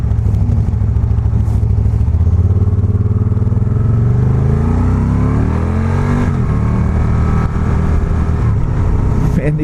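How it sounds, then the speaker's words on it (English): Spyder RS-S three-wheel motorcycle accelerating hard, a loud close engine roar climbing steadily in pitch through the gears, with wind noise throughout. "Man, these things, they accelerate so hard you just want to go romping."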